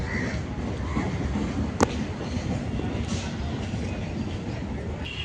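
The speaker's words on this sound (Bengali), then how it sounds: "এখন একটা চক্র রেল ঢুকলো হাবড়া থেকে আসছে মাঝের হাট যাবে" A circular rail train from Habra bound for Majerhat pulls in beside the Ganges, a steady broad rumble of wheels with one brief sharp metallic squeal.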